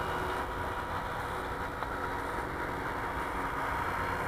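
A Freewing A-10 RC jet with 64mm ducted fans cruising at partial throttle gives a steady, unbroken whooshing roar, loud and even throughout, with no voices.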